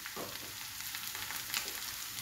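Chili-free spice mix of fennel, garam masala, coriander powder and black pepper powder sizzling in oil for Kerala-style chicken mappas, a steady close frying hiss that runs unbroken with soft stirring scrapes.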